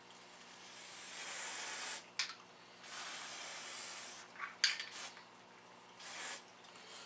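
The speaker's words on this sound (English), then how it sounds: "I'm going to use a little of this Teflon spray." A Teflon lubricant aerosol spray can hisses in three separate bursts, the first long, the others shorter, with faint clicks and clinks in between.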